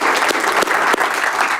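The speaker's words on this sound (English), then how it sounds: "If you can help me give them just another huge round of applause for being here tonight as well" A board of education meeting audience gives a huge round of applause for students, dense close clapping with a few sharper individual claps standing out, loud and sustained.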